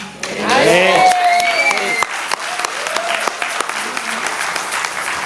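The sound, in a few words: audience applause at Kwanzaa celebration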